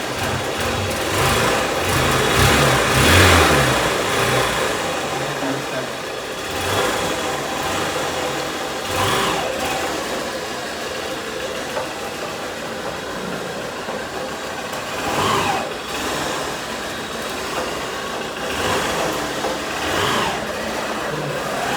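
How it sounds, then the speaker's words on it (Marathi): A vehicle engine is started with the self-starter and revved, a steady close engine running with several distinct revs rising and falling at intervals, with no speech. "आता एका सेल्फमध्ये स्टार्ट होईल."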